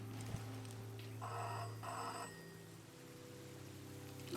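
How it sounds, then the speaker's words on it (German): In a video game, a telephone rings in two short, quiet bursts over a low steady hum, and the sound then falls away. "das Telefon klingelt"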